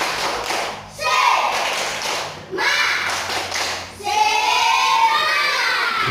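Standing class of primary-school children performs a rhythmic spirit clap in three loud bursts of patterned clapping and chanting, each separated by a brief pause, close and filling the room.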